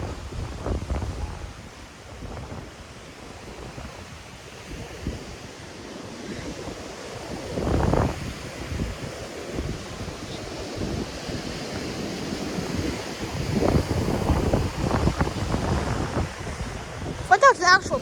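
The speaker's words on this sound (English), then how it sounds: "when a wave crashes, you can see water goes off it" Ocean waves roll in and crash on a foggy shore, a steady roar of surf with swelling breakers, buffeted by wind noise on the microphone.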